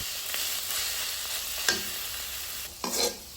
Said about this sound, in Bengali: নেড়ে চেড়ে আরও 2-3 মিনিটের মতো জাল করে নিয়ে নিলেই হয়ে যাবে আজকে আমাদের পাতাকপি রান্না